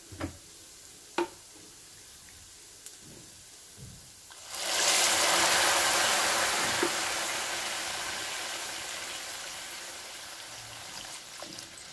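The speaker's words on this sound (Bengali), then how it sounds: "এখন এর 2 কাপ জল দিয়ে দেবো।" Water is poured into a pan of fried rice for a banana-flower pulao, setting off a sudden loud sizzling hiss that gradually fades. A few faint clicks come before it, and no one speaks.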